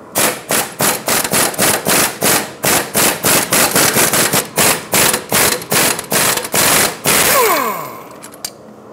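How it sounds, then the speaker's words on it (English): A socket wrench, likely an impact gun, loosening a sway bar link nut on a 2012-2017 Hyundai Accent: a loud rapid run of close hammering bursts, then a spin-down whine. "I'm going to put a 17mm on the backside. It's got a cutout that allows you to hold it, and my socket back on the front."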